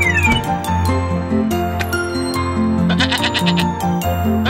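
A goat bleats repeatedly in the foreground, its wavering cries set over a busy musical backing with chiming accents in a children's animal cartoon.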